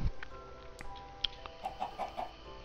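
Minecraft chicken clucks, several short clipped calls in a quick run, in a quiet game scene with faint background game sounds and no speech.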